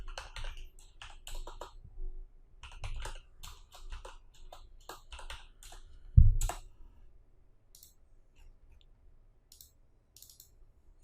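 Keyboard typing while coding a JavaScript while loop, a run of quick clicking keystrokes in bursts over the first six seconds, then sparse faint taps, with no talking.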